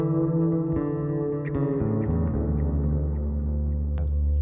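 A Darkglass Electronics Kaamos bass effects pedal gives a distorted bass tone, with several sustained notes ringing and shifting in pitch, played alone at steady loudness.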